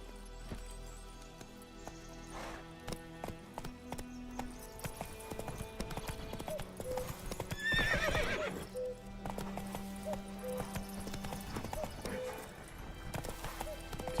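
A horse in a video game gallops with steady clip-clopping hooves and lets out a loud whinny midway, layered over game music and ambient effects.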